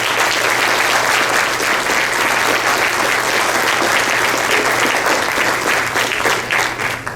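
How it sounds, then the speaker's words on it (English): An audience at a Des Moines city council candidate forum applauds the candidates, a loud, dense, sustained round of clapping that continues evenly for several seconds before easing slightly at the end. "Let's give a round of applause to our candidates."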